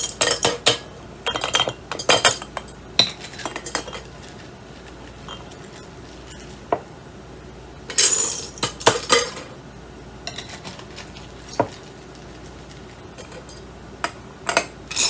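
A spoon scrapes and clinks as cooked mixed beans go into glass canning jars, sounding as scattered close metallic taps and glassy clinks between quiet pauses, with no talking.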